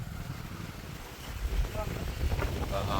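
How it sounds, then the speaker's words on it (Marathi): Cold wind blows steadily outdoors, rumbling low and buffeting the microphone and swelling slightly toward the end, with voices faintly present. "गार हवा सुटली आहे"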